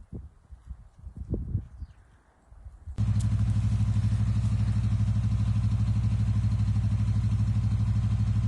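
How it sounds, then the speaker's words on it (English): An outdoor generator powering floodlights at a park at night, starting abruptly as a loud, steady low engine drone with a fast even chug that holds constant, preceded by a few seconds of quieter rustling and thumps. "Can you hear that? That's the sound of our generator."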